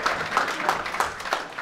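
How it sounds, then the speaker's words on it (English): An audience claps for a panel at a talk on DAOs and tokenomics, a short, light patter of several hands at a moderate, even pace, fairly faint in the room. "Let's do a clap."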